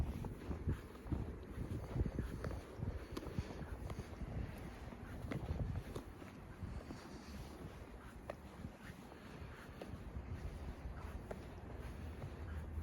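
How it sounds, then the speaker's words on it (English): Wind rushes continuously through a winter snowstorm, a low, steady rumbling blow with mild surges and no voices. "The wind blows at times."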